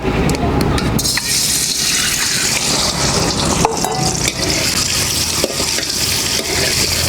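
Eggs sizzle and spit in a hot frying pan with oil, a bright continuous hiss punctuated by occasional stirring clicks and scrapes, close and fairly loud.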